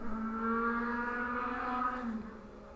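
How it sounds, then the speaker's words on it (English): A loud car passes close by outside, a steady tonal engine drone with strong harmonics that holds for a few seconds and then begins to fade as it moves away. "There's a loud car going by."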